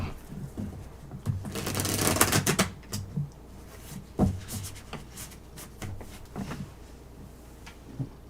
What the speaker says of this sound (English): I'm shuffling. I'm getting my energy in here.